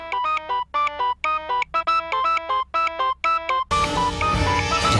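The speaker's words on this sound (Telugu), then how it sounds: "జయాబాయ్ ఏంటి మాణిక్యకి ఫోన్ చేస్తున్నాడు?" A phone ringtone in a Telugu comedy film plays a bright, repeating electronic melody in short bursts with brief gaps, loud and close, before cutting abruptly into fuller background music.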